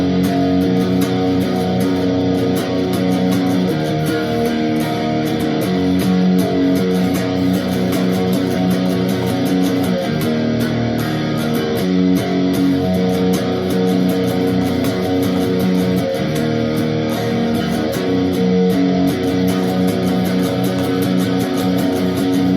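Electric guitar plays a chorus, a loud, dense, distorted strummed wall of sound sustained for over twenty seconds without talking.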